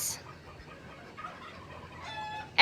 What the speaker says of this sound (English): the rest of the hens are coming out